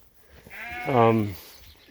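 A ram lamb lets out one close, drawn-out bleat during sorting and banding on a farm, rising and falling over about a second against faint background noise.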